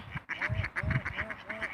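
Wild ducks abroad give a run of nasal quacks, four or five evenly spaced calls close by, each with a bending honk-like tone, with a faint voice in the background.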